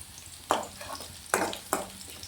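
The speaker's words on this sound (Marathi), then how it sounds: "आपली मिरची अशी भाजायला पाहिजे." Chillies roasting in a pan give a quiet background sizzle, with three sharper bursts of stirring or scraping spaced through the short stretch.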